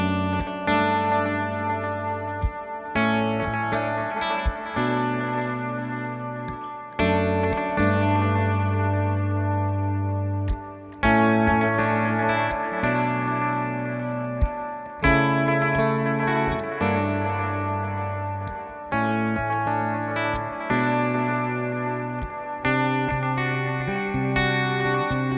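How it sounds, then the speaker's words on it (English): Electric guitar played through a Wampler Ethereal ambient delay and reverb pedal, with sustained chords swelling and repeating in spacious washes and echoing trails, steady and loud with brief gaps between phrases, no voices. "I'm going to turn the reverb delay up just a little bit more."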